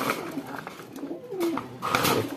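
Pet pigeons or doves cooing near the microphone while being fed foxtail millet, several soft low coos rising and falling over about two seconds with light rustling.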